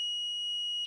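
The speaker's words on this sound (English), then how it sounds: "When water hits the cord, an alarm goes off." A Honeywell water leak detector alarm sounds a single continuous, piercing electronic beep tone, loud and clear with nothing else heard.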